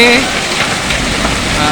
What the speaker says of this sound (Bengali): এখন প্রচণ্ড শিলাবৃষ্টি হচ্ছে